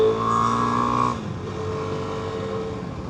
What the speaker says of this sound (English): you can hear that the motor on this bike is a lot louder and a lot clunkier